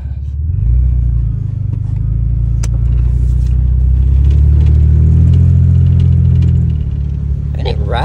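A hunting rig's engine drives along close by with a steady low rumble that rises as it accelerates, then eases toward the end as people talk over it.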